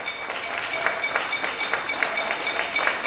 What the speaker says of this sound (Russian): Все вышли хлопать.